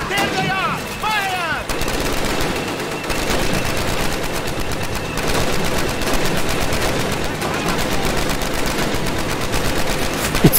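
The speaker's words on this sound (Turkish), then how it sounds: "De buradan sıkayım ben." Machine gun fire in the World War II shooter game Call of Duty: United Offensive, with sustained loud rapid bursts and battlefield noise running throughout, and someone talking faintly under it.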